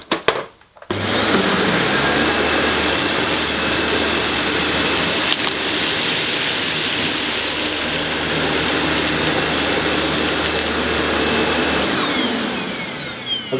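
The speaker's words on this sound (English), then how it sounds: "how well the cleaner picks up general dirt on 2 types of carpet" A Dyson Light Ball vacuum cleaner on its middle setting runs steadily across short-pile man-made fibre carpet, a loud continuous motor whine and airflow roar that starts abruptly after a second and cuts off near the end.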